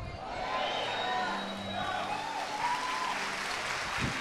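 Congregation applauding at an evangelical church service, a soft, distant wash of clapping that rises gently and holds, with a faint melodic tone running beneath it and brief noises near the end.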